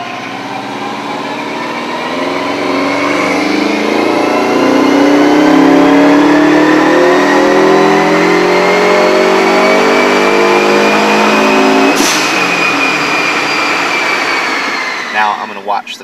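A Subaru Legacy 2.5GT turbo engine revs during tuning, its pitch climbing steadily over many seconds, then dropping sharply and settling back near the end, loud and close.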